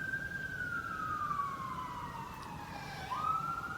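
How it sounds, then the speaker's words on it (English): An emergency vehicle siren wails in the distance, its pitch sliding slowly down and then jumping back up, faint over a low rumble of traffic. "I apologize for all the sirens."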